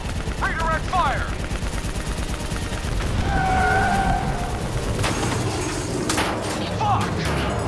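Continuous gunfire in the video game Call of Duty: Black Ops 3, with dense automatic bursts and heavy impacts under shouted voices and a looping game soundtrack.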